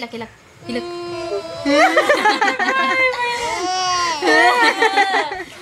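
A young child cries and wails in rising, drawn-out bursts, sounding close and fairly loud, with brief pauses between sobs.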